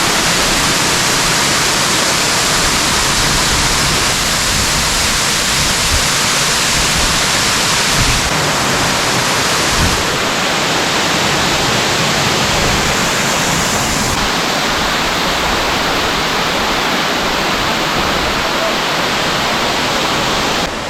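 A broad waterfall near Anakkulam in Munnar roars as a steady, loud rush of water that goes on without a break for the whole stretch.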